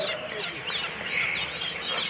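Chickens cluck and call steadily among a large flock of about 11,000 hens and roosters at a poultry farm during H9N2 vaccination, a busy, close, continuous bird chatter with no talk.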